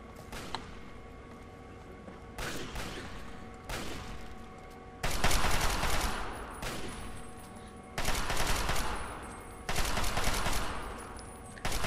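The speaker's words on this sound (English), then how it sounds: "That was a gun." Rapid bursts of automatic gunfire in a video game, loud and close, coming in several sustained volleys with short pauses between them and no talking over them.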